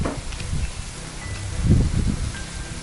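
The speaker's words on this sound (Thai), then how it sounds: "โอ้โห ลมแรงจริง ๆ วันนี้" Strong wind on a riverbank beside the Wang River blusters steadily into the microphone, with low buffeting rumbles that rise in a stronger gust near the middle, plus faint rustling, and no voices.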